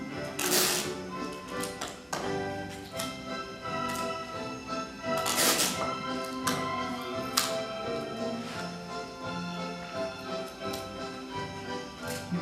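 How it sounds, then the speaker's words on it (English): Adhesive tape pulled and pressed around a wrapped gift, heard as a run of sharp close rips and taps, some louder bursts, with faint crinkling between. "I'm going to put tape all around now."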